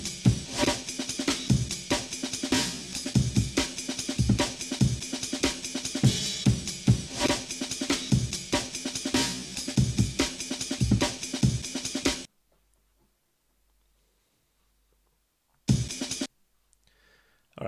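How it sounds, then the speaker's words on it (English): A chopped drum break arranged in Ableton Live, ending with a reversed snare swelling into a forward snare hit; dense, loud breakbeat hits run steadily, then silence, then a brief reversed swell and a short snare. "you basically get the reverse snare into the forward snare"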